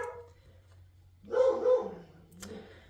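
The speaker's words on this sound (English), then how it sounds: "barking like crazy as always" A dog barks indoors in a burst of a few loud, close barks near the middle, with a fainter yelp toward the end, over a steady low hum.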